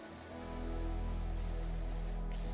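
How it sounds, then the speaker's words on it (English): A pressure washer in the video game Powerwash Simulator sprays a steady, even hiss. It starts after a moment and holds constant over a low hum. "I'm just trying to see how far I can actually spray without actually having to move."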